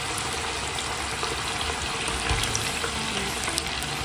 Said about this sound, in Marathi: बघा आता आपण कांदा आणि शिमला मिर्च शालो फ्राय करून घेऊ